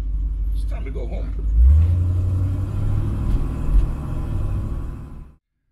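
A car fitted with ACES EFI Killshot fuel injection drives with a deep engine rumble that swells as it accelerates, while someone talks over it. The sound cuts off abruptly near the end.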